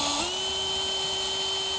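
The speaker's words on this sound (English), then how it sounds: "we'll do a test drill" Power drill boring a test hole into a 2x4 stud during a solar shed wiring job, a steady sustained whine at constant pitch that holds close and loud for nearly two seconds after a brief spin-up.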